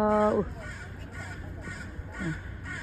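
Crows caw loudly in a quick burst at the start, then softer caws and outdoor chatter continue faintly in the background.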